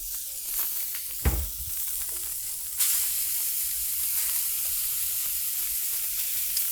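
Steaks sizzling in a hot pan, a constant close hiss with a sharp thump and a flare of louder sizzle as more meat goes in, no talking.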